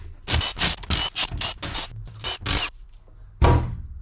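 A wrench or socket works bolts off a leaky differential cover, giving a rapid series of close, dry ratcheting scrapes in short bursts, then a pause and one final scrape.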